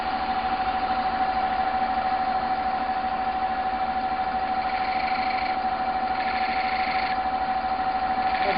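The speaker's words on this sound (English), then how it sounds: "Got the lathe going backwards at the moment." An electric wood lathe spins in reverse while turning an oak torus, giving a steady motor hum with a sustained whine and slight pulsing vibration, close and continuous without speech.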